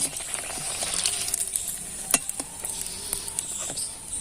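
Rice-batter appam fry in a pan with a soft, steady sizzle, punctuated by small pops and a few sharp clicks of utensils against the pan, fairly quiet and without talk.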